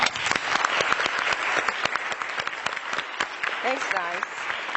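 Audience applause after a health equity talk starts loud and dense, then thins into scattered claps near the end. A brief voice speaks over the tail.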